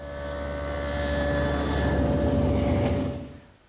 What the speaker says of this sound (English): I've set up my table saw with a dado head cutter for a 3/4 inch width and a 1/4 inch depth